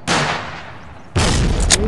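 Two heavy grenade explosions in the shooter game Forward Assault, the first a loud broadband blast that rumbles and slowly decays, the second, just as loud, bursting about a second later with sharp crackling debris on top.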